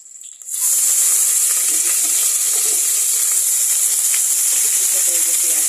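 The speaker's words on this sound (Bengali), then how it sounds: "এখন দিচ্ছি পেঁয়াজ দিয়ে দিচ্ছি।" Onions dropped into hot oil in a pan with bay leaf, cooking dried fish: a sudden loud, steady hissing sizzle that starts abruptly and holds close and bright throughout.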